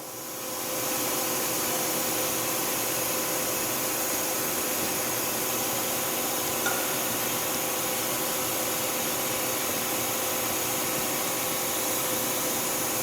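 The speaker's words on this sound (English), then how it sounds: "We'll start the back spindle." Back spindle of a Tsugami S206 Swiss-type CNC lathe spinning up, a steady high-pitched mechanical whir that rises within the first second and then holds constant and fairly loud.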